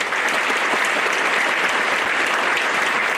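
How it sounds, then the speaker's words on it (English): Dense, loud applause from an audience at a school band concert fills the whole stretch, a continuous even roar of many hands clapping with no voices on top. "So give them a round of applause."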